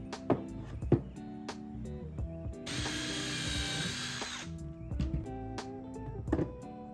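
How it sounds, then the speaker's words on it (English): A power drill bores small pilot holes in a 2x2 piece of wood. A sustained whir of drilling sits between short clicks and knocks of handling the tool and lumber. "I started by creating the small pilot holes on both ends of the 2x2s"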